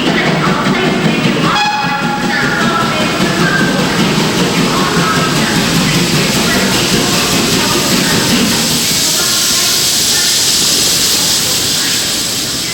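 A steam locomotive runs on the rail link into Birmingham Snow Hill Station, giving a loud, continuous hiss and rumble that fills the whole stretch, with faint tonal notes early on.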